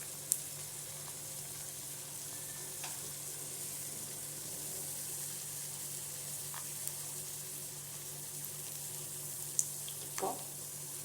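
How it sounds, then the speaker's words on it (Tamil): Mustard seeds and urad dal splutter in hot oil with a steady, faint sizzle, broken by a few sharp pops scattered through and a small cluster near the end. "கடுகு நல்லா வெடிக்கட்டும்."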